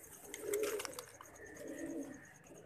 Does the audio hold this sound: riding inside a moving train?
no